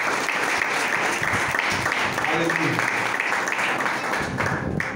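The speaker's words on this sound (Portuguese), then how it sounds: "Vamos aplaudir a Jesus" Church congregation applauding, a dense continuous wash of clapping that stays loud throughout, with a voice calling out briefly over the crowd.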